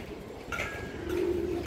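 An old-line Bagha breed pigeon gives a single soft, low coo that swells near the end of a brief moment over faint background noise.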